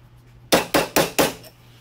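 Four sharp metallic hammer blows strike a punch to drive a pin on a Cub Cadet, evenly spaced and close, each ringing briefly before the next.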